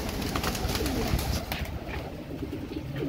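Tiger breed pigeons cooing close by, low throaty coos rising and falling under a constant hiss of rustling and background noise, with no talking.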